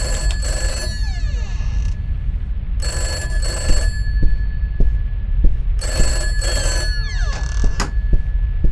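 A video-game telephone rings in repeated bursts of a trilling bell, each about a second long with short gaps, loud and near over a low throbbing hum and soft thumps.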